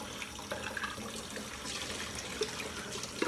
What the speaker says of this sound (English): All you got to do is swish the sponge around, rinse it off.